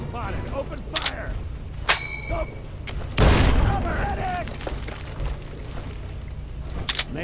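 Gunfire in a war video game, a few sharp shots scattered across the clip with one heavy boom and crackling burst near the middle, over a low rumbling background with faint voices.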